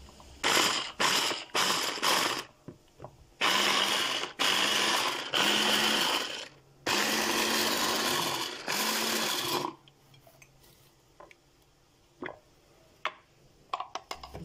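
Electric blender pulsing and running to purée vegetables including bell pepper, loud bursts of whirring motor with pauses between, several short pulses then longer runs, ending in quieter handling clicks.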